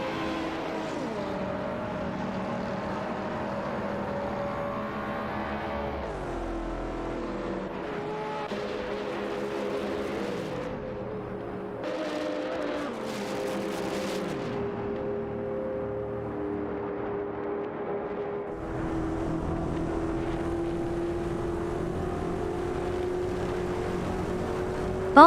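Race cars in a racing video game, a Saleen S7 Twin Turbo and a Ferrari 488 Pista, hold a steady engine drone with shifting pitch as they run close together, with no voices.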